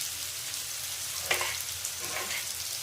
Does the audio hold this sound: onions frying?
yes